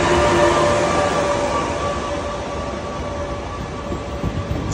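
A train pulls into an Italian station on its way to Florence. There is a loud, steady rail rumble with a sustained tonal whine, easing slightly as it comes in, and no speech.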